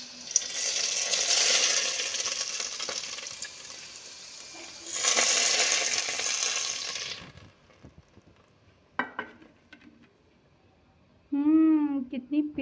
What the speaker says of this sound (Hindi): अब मैं ये तड़का लगाने लगी हूँ